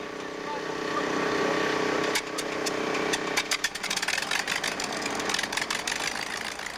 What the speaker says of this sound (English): Now on the tarmac at Edwards, the engines are fired up.